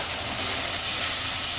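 Water sprinkled into a pan of chicken masala frying for chicken curry sends up a loud, close, continuous hiss and sizzle that holds steady for the whole moment, with no talk.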